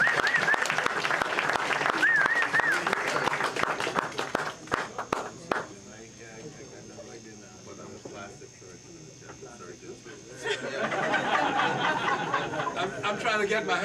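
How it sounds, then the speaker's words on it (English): A round of applause from the audience at a formal evening event with a prime minister; dense clapping fills the opening seconds, dies back under a speaking voice, then swells again near the end. "Round of applause."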